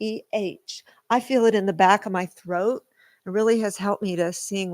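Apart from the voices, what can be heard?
No everyday noises stand out.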